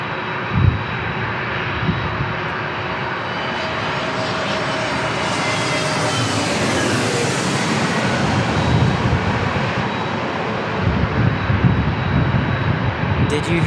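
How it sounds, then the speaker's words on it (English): UPS jet airliner at San Diego International Airport, its engines giving a steady, loud broadband roar that swells and fades across the clip, with voices talking over it. "It kind of looks like a military jet, like a 707 almost."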